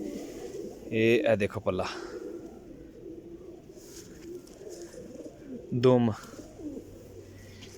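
A desi pigeon coos in two short bursts, close and clear, with someone speaking quietly between and around the calls.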